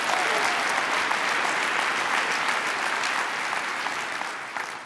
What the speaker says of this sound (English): Let's give another warm round of applause to Dave